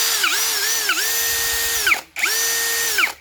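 A cordless electric drill with hammer, drilling and screw modes, set to its high-RPM speed, whines loudly and close with rising and falling motor pitch, stopping briefly once before spinning up again.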